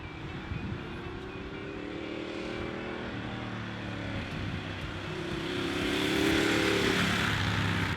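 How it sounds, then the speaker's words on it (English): A Ducati Monster motorcycle cruises along a road, a continuous engine drone mixed with wind rush. The drone rises in a gradual swell toward the end and no one speaks. "if you've never ridden a Monster before, I think they're one of the most underrated bikes ever made"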